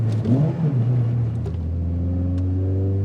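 A 2002 Honda Accord Euro R engine revs close by, a deep steady drone rising at first, then holding a firm hum below VTEC crossover.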